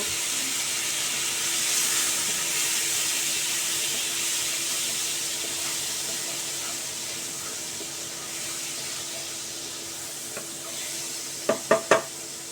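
Spice tempering with turmeric, cumin and chilli powder sizzles in a pan after a little water goes in, making a steady close hiss of steam and frying. A few sharp clinks of a utensil against the pan come near the end.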